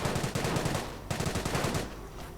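Bursts of rapid Bren light machine gun fire crackle in a World War II video game battle, two sustained volleys close together, loud and dense, with no voices over them.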